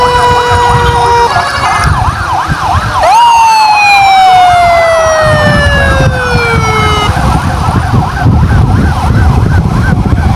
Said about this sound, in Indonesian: Ambulan belakang kita, klinik Kica.